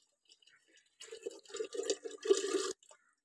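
A bathroom tap runs briefly: quiet drips, then a short splashing stream of water for under two seconds that stops abruptly, close and soft.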